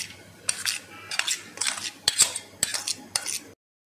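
A spoon clinks and scrapes around a metal bowl, mixing spice masala in quick bursts, close and fairly crisp, several rounds of mixing strokes before stopping.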